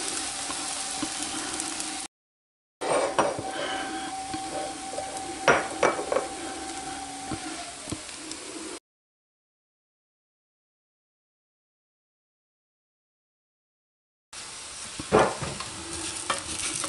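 Crêpe batter frying in a buttered pan, a steady close sizzle with scraping and clinking of a utensil against the pan, broken by a short gap and a longer silence before the frying resumes.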